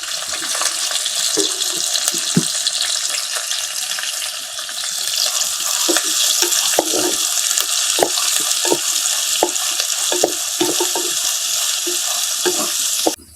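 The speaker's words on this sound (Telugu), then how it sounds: "ఉల్లిపాయలు వేసుకుందామయ్యా. ఉల్లిపాయలు, కరివేపాకు, పచ్చిమిర్చి" Onions, curry leaves and green chillies fry in hot oil for a prawn tomato curry, a continuous loud sizzle broken by scattered clicks and scrapes of stirring in the pan.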